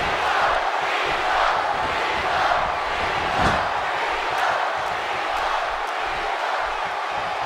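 Roaring wrestling arena crowd in the video game WWE 2K17, a dense, continuous wall of cheering and shouting that holds steady throughout with no distinct voice on top.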